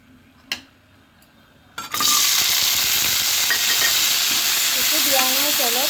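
Jackfruit seeds dropped into hot oil in a pan give a sudden loud sizzle after a couple of soft knocks, then a steady close hiss of frying that carries on to the end while a voice speaks briefly over it.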